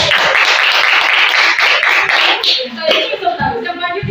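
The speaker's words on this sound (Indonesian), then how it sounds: "Tepuk tangan dalam Muhammad Yusuf." Classroom applause breaks out for a pupil named Muhammad Yusuf, a dense burst of children's hand claps lasting several seconds, then fading into scattered claps and a few voices.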